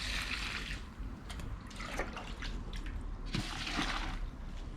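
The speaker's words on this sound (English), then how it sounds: "the next thing we do is just add water to it" Rainwater poured from a container onto sheep manure for a homemade fertiliser, giving a steady, close splashing and trickling wash of water that runs without a break.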